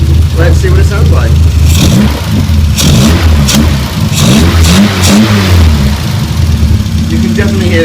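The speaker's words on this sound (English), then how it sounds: "You can definitely hear the induction noise now." A 1978 Triumph Spitfire engine fitted with new air filters revs loudly and steadily for about eight seconds, throttle blips rising and falling over a constant close-up drone with strong induction noise.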